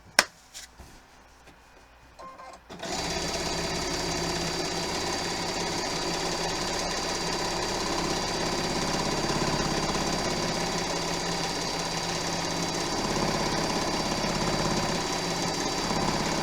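A sewing machine runs steadily and loudly during free-motion quilting, a continuous mechanical whir and rapid stitching hum that starts abruptly after a couple of seconds of quiet and holds without pause.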